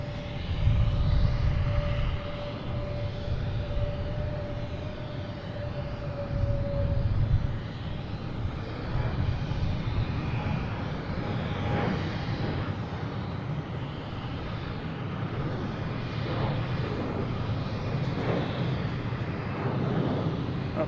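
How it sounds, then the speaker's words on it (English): Delta airliner taking off from Boston Logan, a distant, fairly soft jet rumble that swells and surges gradually, with a faint tonal whine early on. "And we have Delta taking off, heading to Columbus."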